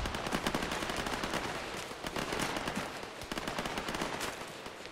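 Distant automatic gunfire rattles through a military shooter game battle in an alpine setting, rapid bursts of shots coming from far off, fairly faint and continuous with short pauses.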